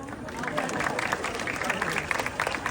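At the Binondo 5 Prettiest 2025 pageant, an audience claps and murmurs together during the national costume segment, a fairly close, busy mix of applause and crowd voices at moderate volume.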